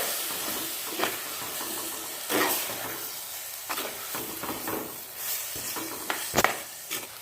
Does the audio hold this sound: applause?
no